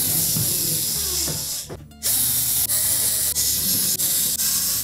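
A power driver tightens screws on the back panel of a GE range, making a loud continuous whirring, a brief pause, then several short repeated bursts.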